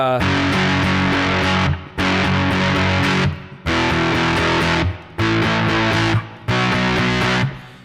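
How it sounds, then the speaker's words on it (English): Heavily distorted electric guitar plays loud, thick chord bursts in a chugging rhythm, with brief gaps of silence between phrases. "Alright, so there's my distortion."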